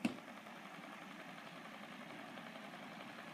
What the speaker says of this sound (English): the rattling sound has not been resolved, but you know, it still moves a decent amount of air.